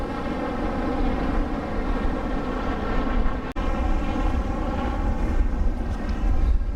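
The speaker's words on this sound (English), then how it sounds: "Here comes a helicopter." A helicopter flying overhead at the Maheno shipwreck on a beach, a loud, steady engine and rotor roar that holds throughout with a brief dropout midway.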